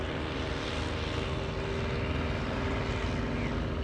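Propeller plane flying at the Greenwood Lake Airshow, a steady, fairly loud engine and prop drone holding constant throughout.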